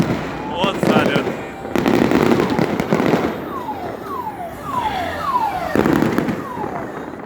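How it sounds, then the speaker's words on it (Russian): New Year fireworks over Irkutsk pop and boom in repeated bursts, with whistling rockets rising between the blasts, while nearby onlookers talk and exclaim throughout. "Вот салют!"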